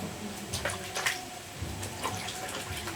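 Tomatoes rinsed by hand under a running tap, a steady close water stream with irregular splashy bursts as the fruit is turned and rubbed.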